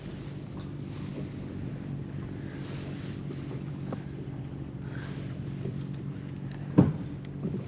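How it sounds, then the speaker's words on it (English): Steady low wind rumble buffets the microphone beside an estuary fishing spot, a continuous broadband roar with a brief gusty bump near the end and no talking. "at least there's less wind now"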